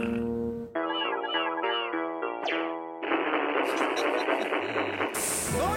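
Cartoon cat meows in a French animated comedy series: several short tonal mewing calls in quick succession, then a longer, louder strained yowl with noisy hissing texture, close and clear.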